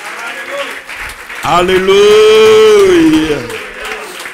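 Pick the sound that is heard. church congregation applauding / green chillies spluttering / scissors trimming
church congregation applauding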